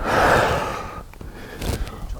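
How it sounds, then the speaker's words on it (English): Climber outdoors on a rock face taking a deep, audible breath in close to the mic, followed by quieter exhaled breaths and faint rustling. "Really taking moments to take a deep breath."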